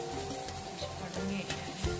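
Fish sizzling in oil in a frying pan, a steady crackling fry with occasional stirring or scraping noises, close and fairly quiet, with no one talking.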